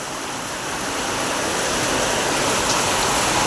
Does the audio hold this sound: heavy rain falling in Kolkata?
yes